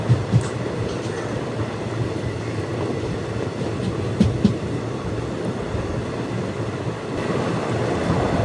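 Circar Express runs between Rajahmundry and Chennai Egmore, its carriages giving a constant heavy rumble with a couple of sharp clanks and soft rhythmic clatter, heard close from on board.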